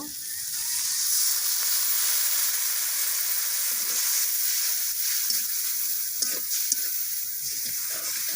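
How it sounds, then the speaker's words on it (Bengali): Masala spice paste frying in a pan, a steady bright sizzle and hiss with occasional stirring clicks, close and alone without talk. "ভালো করে মশলাটা কষিয়ে নিব"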